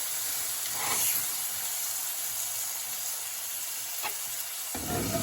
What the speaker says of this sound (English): I'm just going to stir fry some in here.